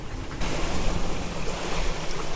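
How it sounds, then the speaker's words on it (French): Strong wind at sea, around 25 knots, roars steadily across a sailing boat's deck between Formentera and Cartagena, a dense, loud rush mixed with wave wash and microphone buffeting, with no voices. "il y a un peu de vent, là, il doit y avoir 25 nœuds dans ces eaux-là"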